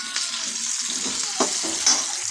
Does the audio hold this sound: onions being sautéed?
yes